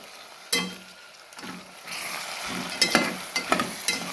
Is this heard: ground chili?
yes